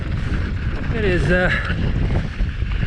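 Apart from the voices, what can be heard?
wind blowing during mountain bike ride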